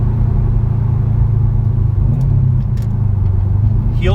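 A 2018 Subaru WRX STI boxer engine rumbles loud and close from inside the cabin while driving, a low, lumpy, steady drone with a brief rising whine at the very end.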